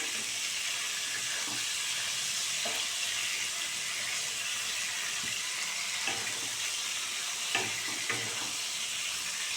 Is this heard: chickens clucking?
no